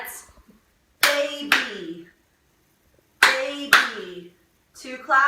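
A teacher and children clap out word syllables in a classroom lesson, two quick claps in pairs repeated twice with pauses between, followed by children's voices speaking.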